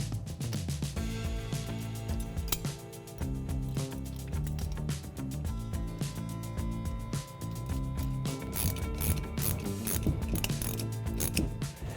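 A ratchet wrench clicks in quick repeated bursts while a nut with washers is tightened onto a bolt of a hood hinge light bracket on a 2010-2022 Toyota 4Runner, close and clear with no talking.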